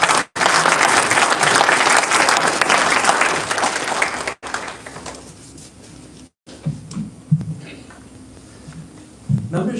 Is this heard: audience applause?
yes